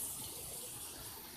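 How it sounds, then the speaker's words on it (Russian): A water-fed brush scrubbing a motorcycle at a free wash station in Iceland makes a faint, steady hiss of spraying, running water with no break. "Вот так происходит мойка мотоцикла в Исландии."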